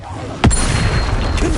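A Confringo explosion spell in a Harry Potter video game hits with one sharp, loud blast followed by a sustained rumbling, crackling roar, close and dense, with game sounds layered in.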